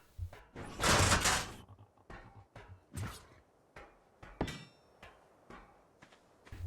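Wooden doors being placed and built in Ark Survival Evolved, a burst of heavy placement noise followed by a series of solid knocking thunks at irregular intervals, fairly loud and close with no talking.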